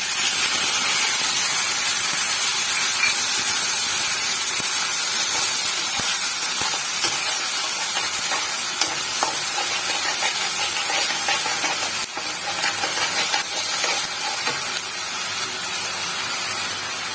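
Onion paste sizzles in hot oil over a spice tempering for doi rui, a steady loud hiss of frying running throughout with slight shifts in texture, no voices.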